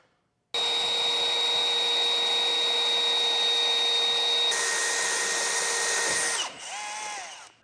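Power drill boring a hole for a Front Runner Slimline II platform roof rack, a close steady high-pitched whine that shifts pitch midway as it bites, then winds down and stops.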